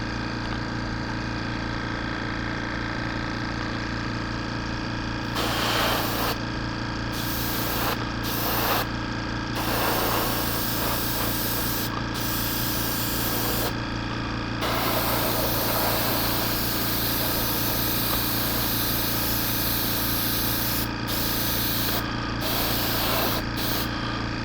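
An airbrush or spray can puts paint on a Revell 1/700 Colombo Express model ship near a masking tape line, with steady close hissing bursts that start and stop repeatedly over a constant background hum.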